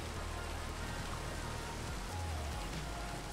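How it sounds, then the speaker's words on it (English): Steady, dense rain hisses throughout a Minecraft game world, falling hard and close with no pauses and no voices over it. "Look at the rain. It's like coming in sideways."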